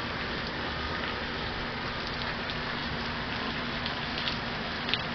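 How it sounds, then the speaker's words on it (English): Rain falls during a hurricane, a continuous soft patter and hiss of drops on surfaces, faint and steady, with a few slightly sharper drips near the end and no voices. "it's only raining, and the winds are okay."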